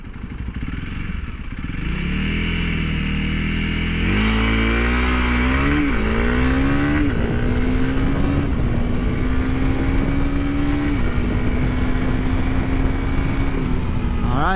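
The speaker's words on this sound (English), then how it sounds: "let's do a launch right here. First gear from here to the next signal." A 2022 Honda CRF300L launches in first gear, its single-cylinder engine rising steadily in pitch and loudness under constant wind rush, heard from onboard without talk.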